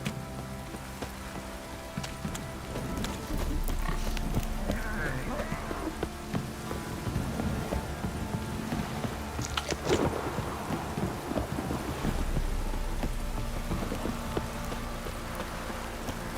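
Heavy rain pours steadily in The Witcher 3 while low thunder rumbles roll underneath, with horse hooves clip-clopping through the downpour and occasional game sounds and voices mixed in.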